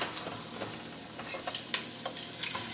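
Garlic frying in a pan while meat gravy and meatballs are being made, giving a soft, steady sizzle with scattered crackles and pops close by, no voices.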